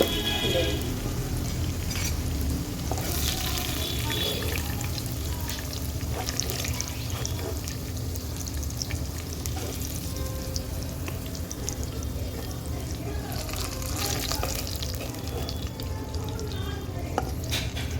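Potato pieces fry in hot oil with a continuous soft sizzle and occasional stirring scrapes, steady and close for the whole stretch.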